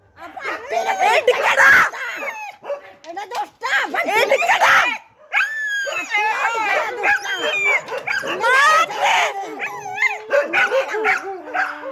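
Several dogs bark, yelp and whimper in close, agitated bursts throughout, mixed with loud overlapping shouting from people nearby.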